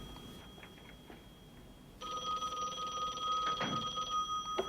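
A telephone rings in the film Analog Desires, a steady electronic bell tone that starts partway through and keeps sounding, fairly clear over a dim background hum.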